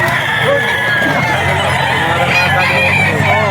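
A Cardinal Kelso gamefowl full stag at a pet market crows loudly and close, the call sustained over a dense crowded background din.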